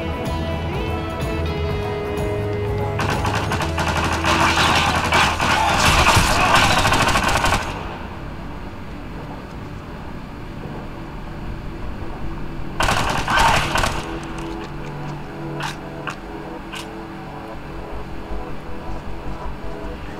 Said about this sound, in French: on est en train de tirer sur nous là